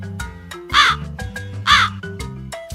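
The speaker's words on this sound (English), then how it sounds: "There was a crow which was very thirsty." Two loud, close crow caws ring out about a second apart, each a harsh rasping call, set against a soft musical bed as a sound effect in a read-aloud children's story about a thirsty crow on a hot summer's day.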